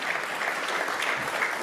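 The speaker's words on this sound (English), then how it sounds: "Big round of applause." A dense, steady round of audience applause fills a hall at a United Nations World Meditation Day event, sustained evenly for under two seconds with no voices over it.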